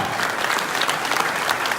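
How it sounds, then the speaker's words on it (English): At an evening event with Senator Cory Booker, the crowd gives the moderator a brief burst of thick, continuous applause lasting about two seconds. "Let's give her a round of applause for such a great job."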